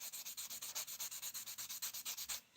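Sanding with a D-Spay sanding sponge, a quick steady run of about seventeen rhythmic scratchy rubbing strokes, close and fairly quiet, with no talk.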